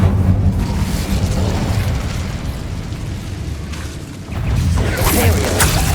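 An Incendio fire spell is cast in the video game Hogwarts Legacy, with a dense, loud fiery rumble and bursts layered over game music and effects, and a brief voice.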